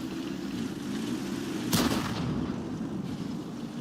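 Artillery fire in the World of Tanks video game: one sharp, loud blast near the middle over a steady low rumble of engine and battle background.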